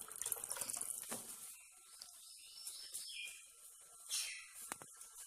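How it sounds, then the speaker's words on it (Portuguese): Water runs from a tap into a sink, a hissing splash that starts loud, eases off, then surges again near the end, with faint bird calls in the background. "Aguinha"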